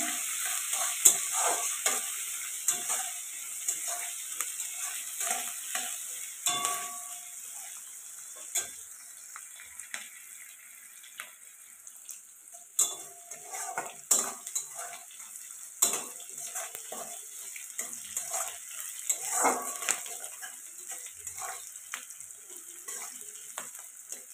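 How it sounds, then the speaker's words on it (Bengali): Onions fry in a pan for egg curry with a soft, steady sizzle. A spatula scrapes and clinks against the pan again and again as they are stirred up close. "তো পেঁয়াজটা এখন লাল লাল করে ভেজে নেবো আমি।"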